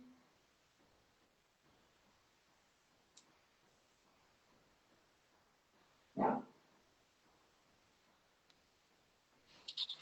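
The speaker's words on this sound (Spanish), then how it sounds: "no sé si se escucharán los perros" A single short dog bark rings out in an otherwise quiet space, followed later by a brief burst of higher-pitched yaps or clicks near the end.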